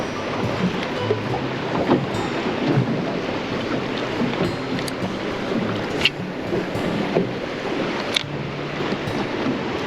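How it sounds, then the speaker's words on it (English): Strong wind buffets the microphone on a lake shoreline while waves wash in, a loud, continuous roar with occasional gusty thumps and no speech. "I've picked a shoreline that the strong wind is blowing onto, hoping that the waves might stir up a bit of fish activity."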